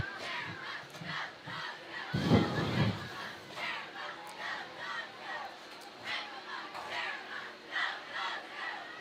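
Crowd noise at a high school district football game between the Eustace Bulldogs and Mount Vernon Tigers, with cheerleaders rousing the stands: a steady mid-distance roar of chanting and yelling, with a louder shouted burst early on.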